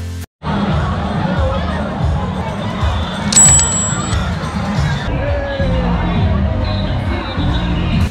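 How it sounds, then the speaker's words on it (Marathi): Dense crowd babble fills a busy resort in Virar on a Sunday, with overlapping voices, shouts and children's cries forming a steady, loud hubbub throughout, one brief high whistle-like tone rising above it midway. "फार गर्दी आहे इथं, फार म्हणजे फार गर्दी"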